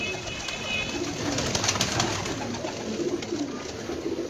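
Captive pigeons coo softly and repeatedly in low, throaty bursts over a steady hiss of background noise, with a few flutters and other bird calls mixed in.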